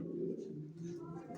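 Faint, steady cooing from racing pigeons kept in a breeder's loft, a low continuous murmur with soft fluttering and quiet background voices.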